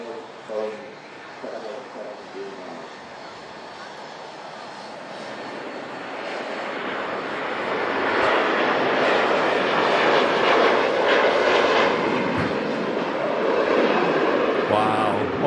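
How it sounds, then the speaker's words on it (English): A Hainan Airlines Airbus A330 departs Manchester Airport, its jet roar swelling from a distant rumble to a loud, broad, sustained thrust as it passes. A voice speaks briefly near the start. "Hainan Airlines A330 heading back to Beijing."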